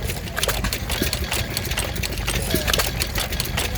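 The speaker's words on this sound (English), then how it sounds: "Here we have another popular engine, a Fuller and Johnson. Open crank, hit and miss." Fuller and Johnson open-crank hit-and-miss stationary engine running steadily at a Victorian show, a busy mechanical clatter of rapid regular knocks with outdoor background noise.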